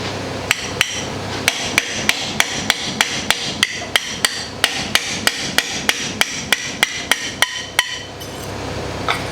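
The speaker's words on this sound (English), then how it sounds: "Just gotta hit it with a hammer." A hammer strikes metal repeatedly during suspension work on a C10 truck being lowered, with about twenty sharp, loud, evenly spaced clanging blows at close range and no talking.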